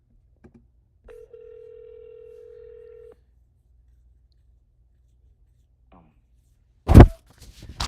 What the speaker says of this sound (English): we're going to dial some more